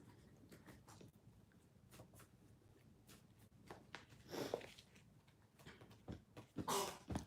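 A single sharp sneeze bursts out near the end, close and fairly loud, after several seconds of quiet room noise with faint rustling.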